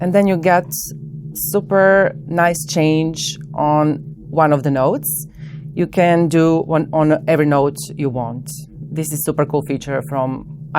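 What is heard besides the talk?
None of the usual background noises is heard.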